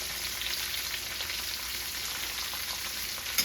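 Bottle gourd fries in hot oil with cumin and curry leaf, a continuous bright sizzle close up with faint stirring scrapes and a small clink near the end, no voices.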